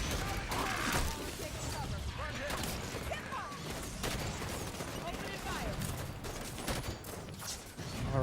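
Grenades are spammed at charging crawler enemies in Halo 5: Guardians, a busy barrage of overlapping explosions and gunfire rumbling continuously beneath a player talking.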